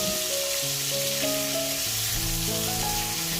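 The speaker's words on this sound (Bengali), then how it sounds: "মাছগুলো একটা পাশ ভাজা হয়ে গেলে আরেকটা পাশ উল্টিয়ে দিচ্ছি যাতে দুইটা পাশই হালকা করে একটু ভাজা হয়ে যায়" Prawns fry in a pan for a Bengali prawn bhuna, being flipped to cook both sides: a loud, dense, close sizzle runs throughout, with a sustained melodic tone playing over it.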